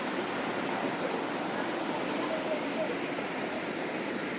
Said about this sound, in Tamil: இங்கே பாருங்க கோரையார் அருவி தான்.